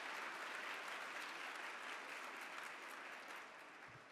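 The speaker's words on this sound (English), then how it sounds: "Let's give them all a round of applause that are here for the first time." Audience applause at an awards gala, a broad, even roar of many hands clapping that stays full and steady before easing slightly at the end.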